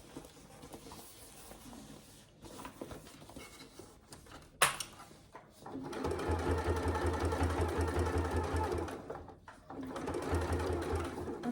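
A sewing machine stitches a wash bag in two runs, a longer steady whirring burst followed by a shorter one, with small handling knocks beforehand.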